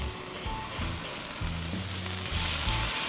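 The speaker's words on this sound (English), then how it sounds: "Let's give this thing a flip." A smoked chuck roast sizzles on a Weber kettle grill just after being flipped, a steady close frying hiss with low hum tones underneath and no talking.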